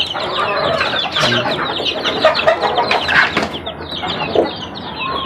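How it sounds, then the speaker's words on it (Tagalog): Pet chickens cluck and squawk in a busy, overlapping chorus at feeding time, close and fairly loud. Wings flap now and then. "At nangaagaw yung aking alagang manok."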